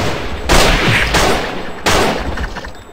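Gunfire in the Madness Project Nexus video game: two loud bursts of shots close up, the second following about a second and a half after the first, with no talk over them.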